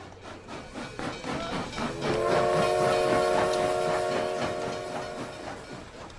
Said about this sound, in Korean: 리웨는 아내와 함께 기차역으로 갔다